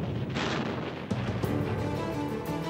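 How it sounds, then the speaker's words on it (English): Anti-aircraft guns firing aboard the battleship North Carolina, heavy booming blasts rolling into one another, loud and close, with no voices. "As the war progressed, the North Carolina bristled with anti-aircraft guns."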